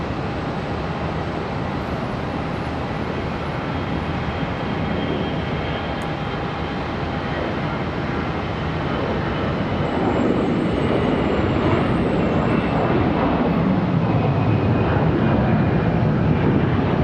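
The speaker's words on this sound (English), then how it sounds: "No info on where this A320 is headed." An Airbus A320 departing Charlotte Douglas International Airport gives a steady, broad jet roar that swells louder in the second half as it powers away, with no talking.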